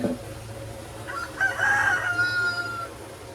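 A rooster crows at moderate distance in a Caribbean yard, a single drawn-out call over quiet outdoor ambience with faint clucking.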